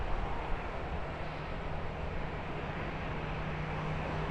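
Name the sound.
airplane taking off or landing at airport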